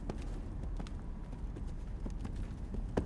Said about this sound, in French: Un bruit de pas de plus en plus, encore lointain. Mais ça avance